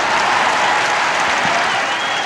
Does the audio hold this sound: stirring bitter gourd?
no